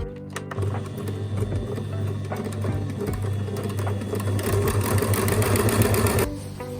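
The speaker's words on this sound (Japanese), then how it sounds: "端っこがほつれるのでジグザグミシンをねかけていきます" A sewing machine zigzag-stitches the raw edge of an apron pocket, running as a close, steady, rapid mechanical chatter for about six seconds before it stops, with no talking.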